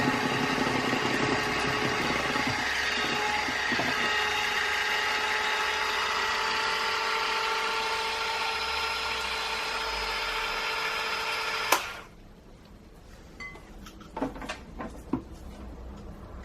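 An electric hand mixer whirs steadily through gluten-, lactose- and yeast-free banana loaf batter for about twelve seconds, then cuts off abruptly, leaving quiet kitchen clatter and a few small knocks.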